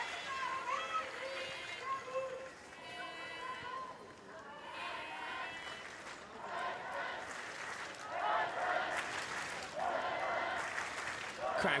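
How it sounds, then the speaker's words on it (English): A hockey crowd at the USA vs Germany Women's Hockey World Cup match in The Hague rises into cheering and applause that swells in later seconds, heard under steady commentator talk. "Crowd coming to life and playing their part here."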